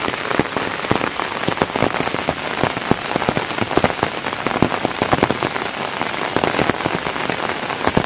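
Heavy rain pours steadily onto surfaces outdoors amid flooded surroundings, a dense continuous hiss with sharp close drips and splashes throughout.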